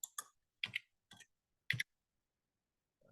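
Several sparse, separate keystrokes tap on a computer keyboard, close and quiet, with short pauses between them and no talking.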